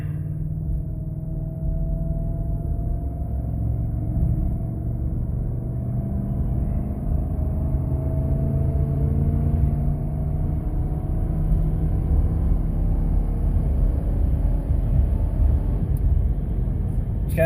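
Car engine accelerating along a straight road, a low steady rumble heard from inside that slowly builds in pitch, with no talk.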